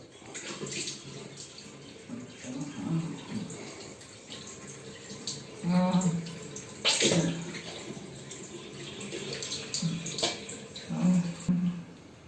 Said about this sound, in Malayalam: വെള്ളം എടുത്ത് വാ കഴുകുകയാണ്